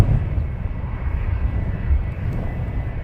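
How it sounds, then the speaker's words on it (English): An EasyJet airliner bound for Aberdeen takes off from the runway at Luton Airport with a steady, deep engine roar that stays strong and unbroken throughout, and no voices over it. "the EasyJet is off to Aberdeen, lined up on the threshold"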